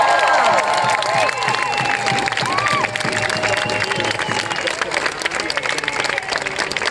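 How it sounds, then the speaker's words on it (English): Large outdoor rally crowd in Western Australia applauding and cheering a speaker, a steady dense roar of clapping with shouts and whistles rising above it, loud and continuous throughout. "Give her a big round of applause."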